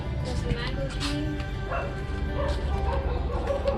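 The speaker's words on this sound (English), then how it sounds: "And we got a dog barking at us." A dog in a residential yard in Dumaguete City, Philippines barks at strangers, its yips and barks faint and scattered under steady background noise.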